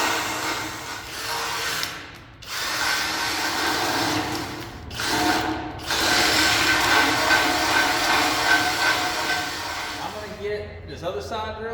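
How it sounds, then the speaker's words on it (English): A power drill bores holes in a gooseneck trailer deck for marker lights, whining in loud sustained bursts separated by brief pauses, close by, with some talk underneath. "let's just concentrate on getting these holes drilled for the marker lights up top"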